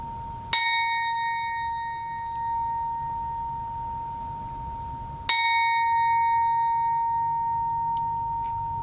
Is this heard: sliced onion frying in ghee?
no